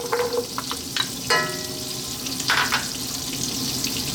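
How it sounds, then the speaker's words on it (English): Celery dropped into a pan of hot butter and olive oil frying with a steady crackling sizzle, with a few sharp spits and stirring clatters, close and moderately loud with no talk. "Let's drop in our celery,"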